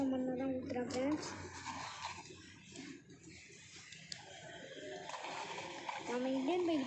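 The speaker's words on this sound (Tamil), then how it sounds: "தண்ணி கலந்த மண்ணை தான் ஊற்றுறேன்" Water-mixed soil poured and splashing with wet sloshing sounds, while a person talks over it and music plays faintly in the background.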